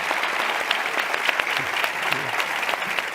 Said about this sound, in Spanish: Un aplauso para Antonio y para las, por favor.